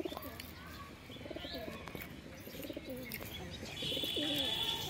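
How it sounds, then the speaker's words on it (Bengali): A white domestic pigeon at home coos in soft, low, repeated phrases, close by, amid a steady background hum with faint chirps. "খুবই সুন্দর পায়রা, এটা আমার বাড়ির পায়রা"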